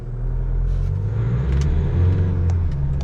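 An Isuzu vehicle's engine runs with the accelerator held down, giving a steady, close low rumble and hum that swells slightly midway, with no talking.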